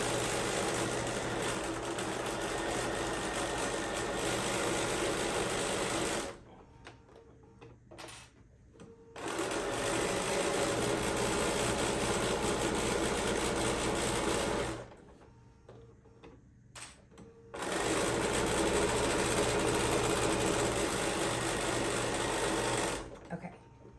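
Sewing machine stitching pillowcase fabric: three long, loud bursts of steady, fast mechanical whirring, separated by short pauses with soft handling noises.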